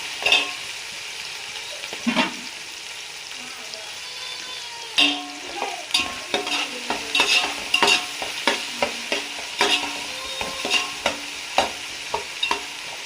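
Mutton biryani masala with coconut frying in a pan, stirred with a spoon: a constant sizzle under repeated rhythmic scrapes and clinks of the utensil against the pan, growing busier toward the end.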